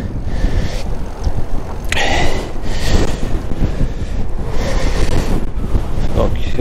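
Strong wind of 40 to 60 km/h buffets an exposed walker outdoors, roaring in continuous loud gusts that surge and ease, thumping hard against the microphone.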